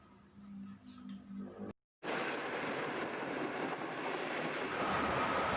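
A passenger train running on rails, a steady loud rumbling roll with faint wheel clatter, briefly cut to silence before the continuous noise resumes close by.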